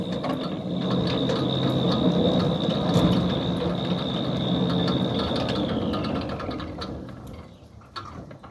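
A Centurion D6 Smart gate motor drives a steel sliding gate along a slightly bent ground track, giving a steady mechanical whir and gear rattle with a high whine that holds, then drops away as the gate stops.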